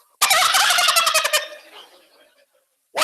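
A wild turkey gobbles loudly and close, a rattling burst of about a second that trails off, followed by a sharp start of another call at the end.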